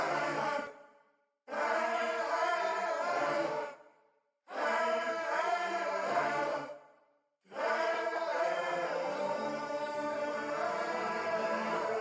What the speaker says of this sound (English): Then for the second part of the sample, I had this choir which is from Splice again